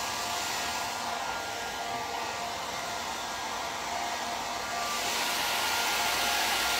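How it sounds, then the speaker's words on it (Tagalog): A hotel room hair dryer runs steadily, a loud, close, continuous airy whoosh with a constant motor hum, shifting slightly in tone near the end as the airflow changes, with no talking. "Ayun yung blower niya, oh."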